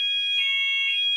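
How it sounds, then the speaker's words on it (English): A fire alarm sounds during a test, a loud, shrill electronic tone held continuously from start to finish, piercing and close, with no voices over it. "Just a little fire alarm test, and we're back."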